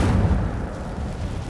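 A fiery Incendio spell bursts from the caster's wand in Hogwarts Legacy, a loud, deep whooshing boom that hits hard at the onset and then rumbles on steadily, with no voices over it.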